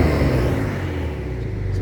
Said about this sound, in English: The car is louder and it revs higher as well on tick over, ready to go.